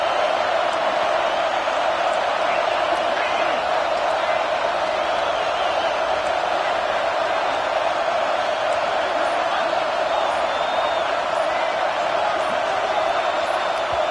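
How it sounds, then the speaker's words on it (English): A football stadium crowd roars for a red zone defensive stand in a college playoff game, a loud continuous wash of cheering with a commentator's voice over it. "And here comes the noise. This crowd is trying to inspire this defense to make a big red zone stop."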